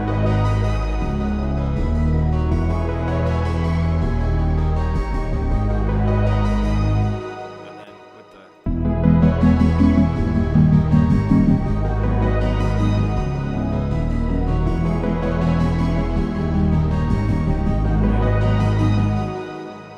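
An electronic song made in FL Studio plays with arpeggiated synth lines over a heavy bass, loud and full, briefly dropping out near the middle before resuming at full strength, no speech.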